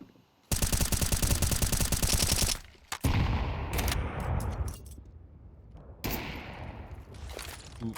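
Fast automatic gunfire on the Vertigo map in Counter-Strike, a long loud sustained burst followed by scattered single shots and a second shorter burst, close and punchy.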